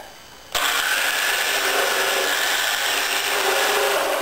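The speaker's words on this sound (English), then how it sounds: "the first thing I'm going to do is trim off the end" A power tool trims the end of a hull panel, starting with a sudden onset and then running loud and steady as it cuts through the material.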